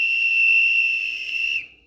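A model locomotive's ESU sound decoder sounds a steady, loud, sustained whistle tone close up, holding for about one and a half seconds before cutting off abruptly.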